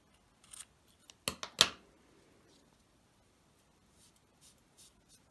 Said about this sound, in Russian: Теперь я обрезаю ниточку.